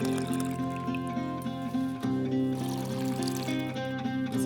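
Water from a freshly drilled backyard well is poured back into a container, a steady splashing trickle heard up close over a continuous low hum, with no talking.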